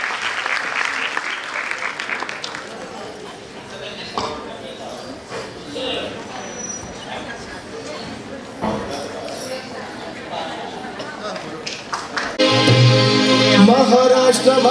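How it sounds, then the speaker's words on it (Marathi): A crowd claps loudly and steadily to welcome dignitaries onto the stage at the inauguration ceremony of the eighth National Nutrition Month. A voice is heard over the applause, which swells louder near the end. "जोरदार टाळ्या वाजवूयात आणि या सर्व मान्यवरांना मंचावरती आमंत्रित करूया"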